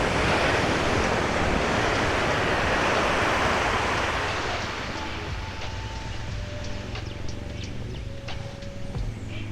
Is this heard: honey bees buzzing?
no